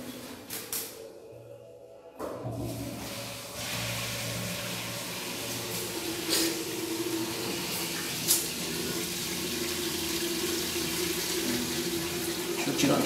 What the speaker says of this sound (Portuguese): a gente apertou a descarga